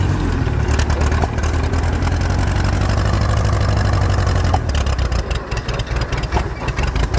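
A Farmall H tractor engine runs loud and close in fifth gear, its carburetor untuned, giving a steady, throbbing low rumble with a slightly uneven beat that holds throughout without any talking.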